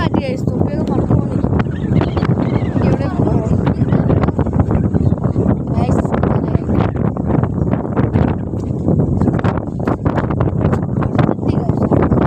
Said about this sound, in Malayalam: ഭയങ്കര കാറ്റ് ഗൈസ്. തൊപ്പിയൊക്കെ പറന്നു പോണു.